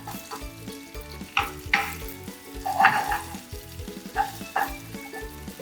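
Peppers and onions sizzle and fry in a pan while a utensil scrapes and stirs them in repeated bursts, a close, moderate crackle with periodic clanks over steady frying.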